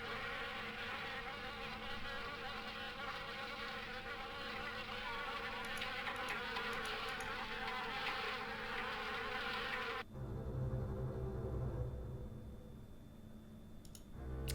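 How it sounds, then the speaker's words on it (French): Dense, steady buzzing of many wasps swarming from a nest inside an old car in the game Harvester, continuous throughout, shifting to a lower hum near the end. "Le frigo est scellé par un nid de guêpe."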